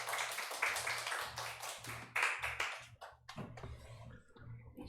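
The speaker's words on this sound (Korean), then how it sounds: "박수로 맞이하면 좋겠습니다" Korean church congregation applauding to welcome a preacher at a Sunday service, a dense burst of hand clapping that thins out into scattered claps, soft and somewhat distant.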